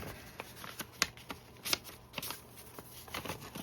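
Paper rustling and crinkling as an old 1940s envelope stuffed with handwritten letters is handled, with soft scattered crackles and a few sharper crisp snaps, close and quiet with no talking.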